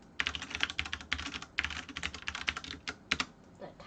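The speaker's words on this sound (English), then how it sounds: "The typing's really loud." Rapid clattering keystrokes on a mechanical keyboard come in irregular bursts and short pauses, close and crisp but fairly quiet, with no talking.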